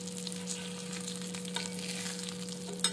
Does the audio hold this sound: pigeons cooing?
no